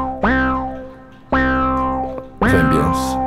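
Three loud synthesizer notes of a melody strike one after another, each sliding up in pitch and ringing out with a long reverberant tail.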